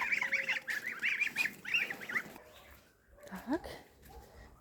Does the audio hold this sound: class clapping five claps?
no